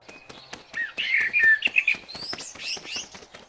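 Cartoon birds chirping and tweeting outside a house, a lively cluster of bright calls over steady rhythmic tapping, moderately close with no talk.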